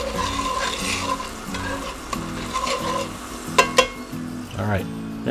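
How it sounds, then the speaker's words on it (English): French toast sizzling in a cast iron skillet with a splash of bourbon, a steady frying hiss punctuated by a utensil scraping and knocking against the pan in a rough rhythm. "French toast in a cast iron skillet, the Watkins Way, with a little shot of Angel's Envy in there."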